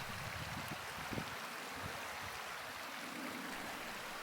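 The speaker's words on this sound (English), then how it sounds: "the sounds of the water coming from my space" A steady, soft wash of flowing stream water runs continuously, faint and even, with no voices over it.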